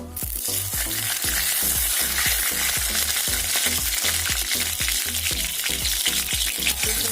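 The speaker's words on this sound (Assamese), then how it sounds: "তেলতে দি দিছোঁ তেজপাত 2টা" Two bay leaves frying in hot oil in a pan, a loud, steady sizzle with regular rhythmic stirring or scraping knocks throughout, close up and with no talking.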